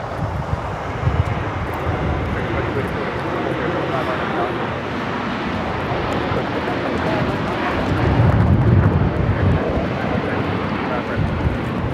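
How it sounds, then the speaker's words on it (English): A United Airlines Boeing 757-300 takes off at Los Angeles International Airport, bound for Washington Dulles. Its engines give a steady, broad roar that swells slightly toward the end, with wind buffeting the microphone. "This is United Airlines 1635 taking off to Washington Dulles on the 757-300."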